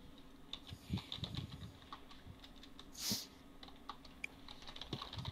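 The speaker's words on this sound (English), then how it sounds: "I'm typing! Type faster!" Fingers tap away at a computer keyboard in quick irregular bursts of soft clicks, one louder clack standing out midway, close and quiet with no talking.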